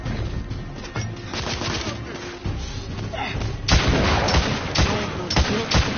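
Rifle volleys in a combat game set in a courtyard crack out in rapid, loud bursts, with denser, heavier shots toward the end over background battle noise.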